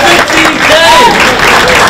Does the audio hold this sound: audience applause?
yes